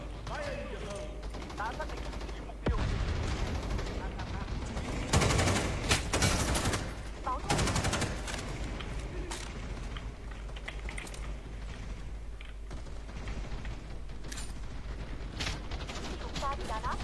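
Rapid bursts of gunfire in the video game CrossFire (Quay Truy Kich) come in repeated loud volleys over clicking keys, with someone talking at times.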